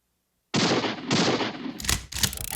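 Gunfire rings out in an American West video game as a player shoots at a bottle: a sudden loud burst of sharp reports that stays dense, then two more distinct cracks near the end.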